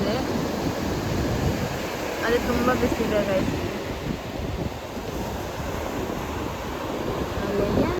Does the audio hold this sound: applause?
no